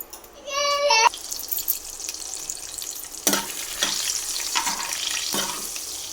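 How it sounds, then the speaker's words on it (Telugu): Cumin, dried red chilies and dried fish sizzling in hot oil in a pan, a steady crackling fry with a few sharp stirring clatters, close by, after a brief electronic beeping at the start. "జీలకర్ర, ఎండుమిర్చి, తెలగపిండి, ఎండి చేపలు నెత్తళ్ళు అంటారు కదా అవి, ఇవి వేగిన తర్వాత"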